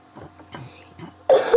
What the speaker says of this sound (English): you're not ever gonna get rid of that cough, are you?